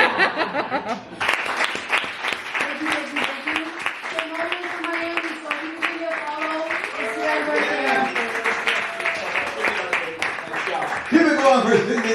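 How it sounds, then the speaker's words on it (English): A stand-up comedy club audience in New York claps steadily for the comedian, dense applause with some laughter mixed in, while a voice talks over it throughout. "Keep it going for Cindy, y'all. Clap it up for Cindy."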